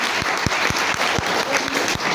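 An audience at a Milifestyle marketing event applauds strongly, dense clapping from many people with a few louder individual claps standing out, continuous and close.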